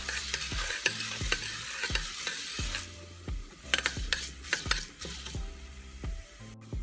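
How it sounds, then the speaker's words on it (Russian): Vermicelli frying in oil in a pot, a steady sizzle broken by repeated scraping strokes of a spoon stirring through the noodles, close and fairly loud with no voices. "Вермишель обжариваем до золотистого цвета."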